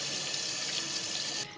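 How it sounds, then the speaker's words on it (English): Cold tap water runs steadily into a kitchen sink while rinsing a scrubbed turkey, a close, continuous splashing stream that cuts off just before the end. "After you scrub your turkey, you want to rinse with some cold water."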